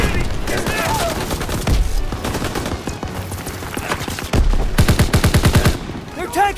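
Rapid, loud bursts of gunfire from the World War II shooter Call of Duty: WWII, with rifle and machine-gun rattles in quick succession alongside shouted battle commands.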